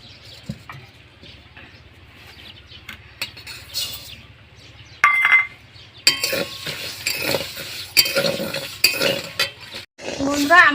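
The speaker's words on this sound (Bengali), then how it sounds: "বন্ধুরা, আমি শুকনো খোলায় সাবুটাকে ভেজে নিচ্ছি এরকমভাবে।" Dry sago pearls roasting in a dry pan, stirred with a metal utensil that clinks and scrapes against the pan in irregular bursts, growing busier in the second half.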